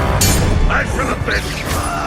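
Spell explosions crack and boom in the video game Hogwarts Legacy: loud, dense bursts of blasts and crashing follow one another quickly, with a voice talking over the din.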